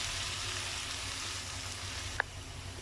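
Chopped tomatoes frying with onions in a pan for a mushroom gravy, giving a steady soft sizzle at moderate distance, with one small sharp tap near the end.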